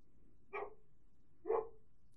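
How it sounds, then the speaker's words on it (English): Two short, faint barks from a small dog in the distance, about a second apart, in an otherwise quiet room. "So you can hear my puppies."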